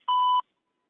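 A single short electronic beep, steady and clean, sounds alone in an automated IVR phone call for the KBC 16 quiz, followed by silence.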